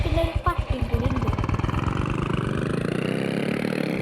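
A motorcycle engine in the video game Indian Theft Auto putters with fast, even pulses, starting choppy then settling into a steady idle-like rumble, while a person talks over the opening.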